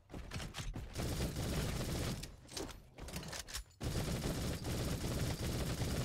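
Dual pistols fire in the video game Roboquest as rapid, dense volleys of loud shots with a few short pauses and a sustained burst near the end.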